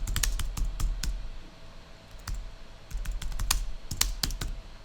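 Someone types a file name on a computer keyboard, crisp close key clicks coming in quick irregular bursts with short pauses, no talking.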